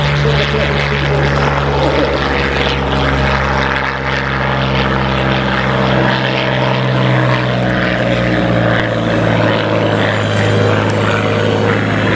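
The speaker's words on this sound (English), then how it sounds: "And here come the first of the American fighters" A Vought F4U Corsair fighter with a piston propeller engine flies at a Duxford air show, giving a loud continuous drone that holds steady throughout with faint shifts in pitch as it passes.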